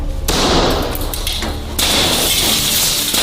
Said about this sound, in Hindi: इसने तो शीशा तोड़ दिया।